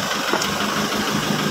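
An Isuzu Trooper's 4JX1 diesel engine idles steadily after repairs to a fuel and oil mixing problem, giving a continuous close, even rumble with no one speaking.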